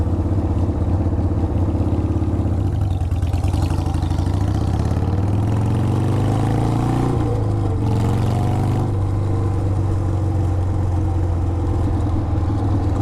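A motorcycle engine idles with a low, steady rumble, then revs up and pulls away in first gear, the pitch rising before it settles back, close and alone with no talk.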